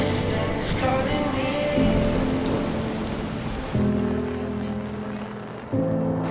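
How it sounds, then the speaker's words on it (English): Steady rain pours outside during a wedding at Rixey Manor, a dense, continuous hiss that holds at even loudness throughout, with sustained tonal sounds running underneath. "It's raining outside."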